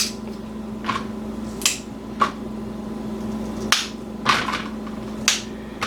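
Fresh ginger root is snapped apart by hand, giving about eight sharp, crisp cracks spaced irregularly over a few seconds against a quiet kitchen background.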